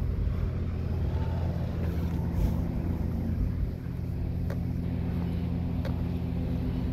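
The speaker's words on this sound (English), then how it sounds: "That vehicle's running." A vehicle engine runs steadily at low pitch near a police department in Royse City, Texas, a continuous idling rumble with wind buffeting the microphone and a couple of faint clicks, no talking.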